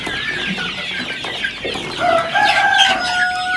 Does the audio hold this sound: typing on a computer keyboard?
no